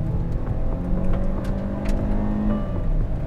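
A 2021 Hyundai Alcazar SUV engine accelerates in sport mode, a steady droning hum with rising tonal whine, heard alone without talk.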